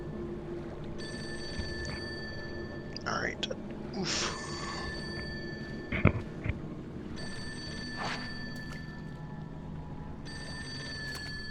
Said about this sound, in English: I know there's a phone happening right now.